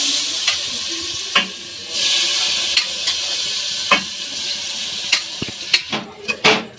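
Rice grains fry and sizzle in hot oil with turmeric for khichuri, while a spoon scrapes and stirs the pan in repeated strokes, with sharp clinks and a steady hiss throughout.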